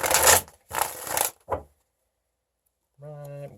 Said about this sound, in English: Let's get a few shuffles in,